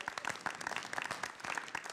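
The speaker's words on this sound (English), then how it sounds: "I want to give a round of applause to Janice" An audience claps in a quick patter of many overlapping hands, fairly close and steady throughout, at an event staging a Christmas county spelling bee musical.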